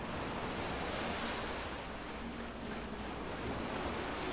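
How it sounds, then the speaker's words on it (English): Ocean waves rolling onto shore in the video game Skyrim, a steady broadband wash of surf with a faint windy hiss, continuous and moderately distant, no voices. "Oh, look at the waves come in."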